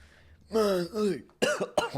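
Harsh voiced sounds, a drawn-out strained vocalization followed by two short forceful coughs, close and loud.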